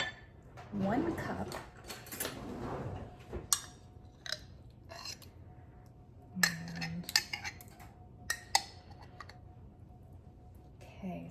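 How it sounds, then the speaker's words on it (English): Home-canned pumpkin is scooped out of a glass jar, with faint scraping, clinks and taps of a utensil against glass interrupted by short quiet pauses, and someone speaks briefly near the start. "So I am going to open this fresh jar and we are going to scoop out"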